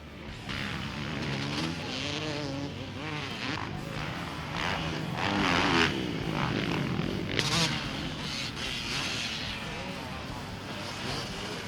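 Motocross bikes race handlebar to handlebar on an MX track, their engines a dense, continuous roar, close and loud, with rising and falling revs over the whole stretch and a narrator's voice running over it.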